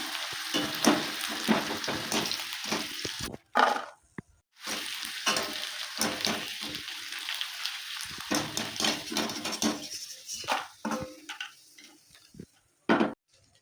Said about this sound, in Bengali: তেলটা গরম হয়ে গেছে আমি সে কাঁচা আলু চিপগুলো দিয়ে দেবো